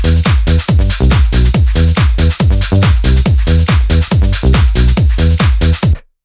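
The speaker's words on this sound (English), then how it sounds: "All the drums together, the whole rhythm section together," Hard house drum and bass groove: a loud, driving four-on-the-floor kick with sub bass pulses and bright hi-hats and percussion on top, steady and unbroken, stopping abruptly at the end.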